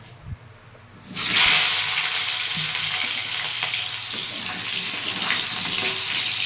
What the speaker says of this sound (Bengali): এবার ভেজে নেব আলুটা